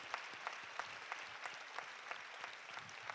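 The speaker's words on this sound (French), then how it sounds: "on peut les applaudir, entre nous, tous les intervenants. Bravo" A conference hall audience at a national inclusive-education event applauds the speakers: faint, fairly quiet clapping with a steady, regular pattern of claps, distant and sustained throughout.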